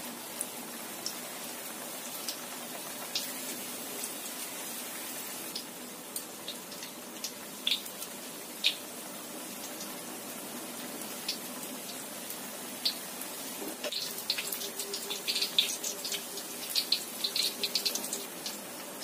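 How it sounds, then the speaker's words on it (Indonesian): Rolled snacks frying one at a time in oil in a wok over medium-low heat, a steady soft sizzle with scattered pops and crackles, no talking. "Kita goreng satu persatu"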